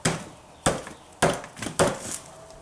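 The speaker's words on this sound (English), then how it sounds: "Now you want to get some kind of a dead blow hammer." Four sharp, heavy thuds from a dead blow hammer striking the rear tail cone housing of a 1999 Jeep Grand Cherokee Laredo transfer case, evenly spaced about half a second apart, close and loud with no talk.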